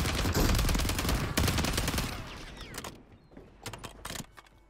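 Gunfire in a ranked Resurgence match of a battle-royale video game comes as dense, loud bursts of automatic fire for the first few seconds, then thins to scattered, sharper single shots.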